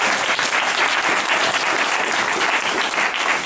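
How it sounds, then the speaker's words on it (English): Loud, steady applause from an audience at a candidates forum in a library, dense clapping sustained throughout without letup. "Let's give them another round of applause."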